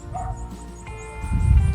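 A dog yips and gives short, whimpering barks on a farm with vegetable plots, a few quick calls close by, followed by a louder rustling burst.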